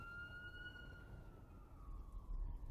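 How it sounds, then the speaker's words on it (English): A distant ambulance siren wails steadily in long, sliding tones, faint and continuous against a low background rumble. "Sorry, ambulance."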